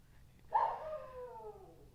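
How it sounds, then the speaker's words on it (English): A dog howls faintly in the background indoors, setting off after a fire whistle: one rising then slowly falling drawn-out howl, quiet and distant, with no talking over it. "Can you hear my dog howling in the background?"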